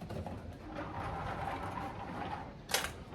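A restored 1972 Nishijin Model A vintage pachinko machine is plugged in and powers on, giving a steady low mechanical hum and then one sharp click near the end.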